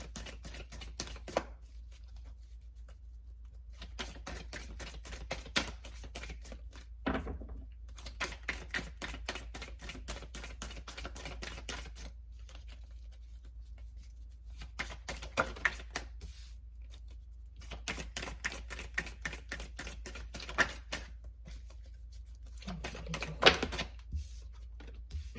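Tarot cards being shuffled for a reading, a long run of soft rapid riffling clicks in quick bursts, close and quiet, broken by short pauses, with no talk.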